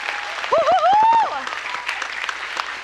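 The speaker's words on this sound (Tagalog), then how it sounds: "Pinakamalakas sa palakpak" A church congregation applauds loudly, with a voice whooping and shouting over the clapping and crowd noise.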